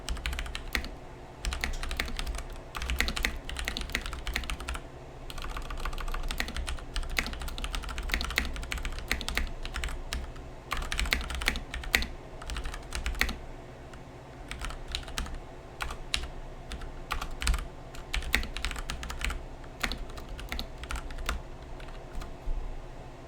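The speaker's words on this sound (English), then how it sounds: "Let me just type it because I feel like I can type it a little faster." Fingers type on a computer keyboard in steady, irregular bursts of clicking keystrokes over a low background hum, continuing for about twenty seconds with a few short pauses.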